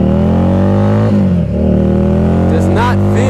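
A 2015 Harley-Davidson XG750 Street motorcycle with its 750 engine and baffles removed, idling loud and close with a steady harmonic drone, then revving upward near the end.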